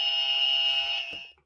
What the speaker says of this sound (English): Just a test of your buzzers.